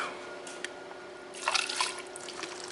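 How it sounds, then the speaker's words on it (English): Old stale gasoline drains from a vintage scrapyard generator, trickling and dripping faintly into a container, with a brief stronger splash of liquid partway through. "I'm gonna drain the old stale gas out of this generator now"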